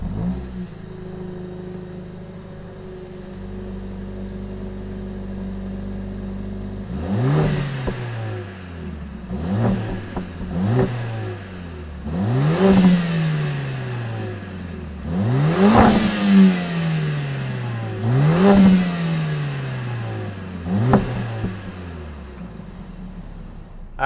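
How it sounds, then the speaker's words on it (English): A 2020 Mercedes-AMG CLA 45 with a turbocharged 2-liter inline-4 starts after a few seconds of quiet idle, then revs sharply about six times, each rev rising and falling back, loud and close. "Let's fire up this CLA and hear what it sounds like."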